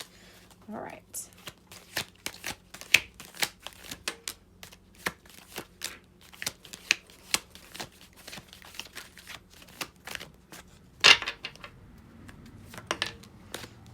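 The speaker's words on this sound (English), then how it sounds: "Let's shuffle a minute. Shuffle Pisces." Tarot cards riffle and flick in rapid, irregular bursts close to the listener for several seconds, with a faint voice in the background.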